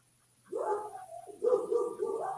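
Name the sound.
dogs barking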